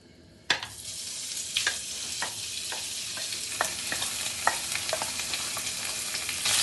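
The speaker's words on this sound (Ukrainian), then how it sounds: "На сковорідку наливаємо трішки олії і гарно її нагріваємо. Далі викладаємо нарізане сало." Chopped pork fat (salo) sizzles in hot oil in a frying pan, a bright crackling hiss that starts abruptly and stays steady, punctuated by sharp spits and pops, heard close up with no talking.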